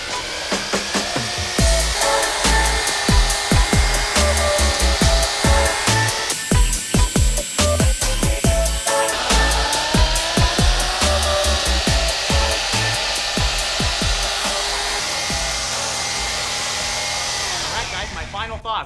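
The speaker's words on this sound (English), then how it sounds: "Very powerful double paddle mixer." A Ridgid dual paddle mortar mixer runs steadily at high power, a loud continuous motor whine with rapid rhythmic clattering and scraping that eases slightly toward the end.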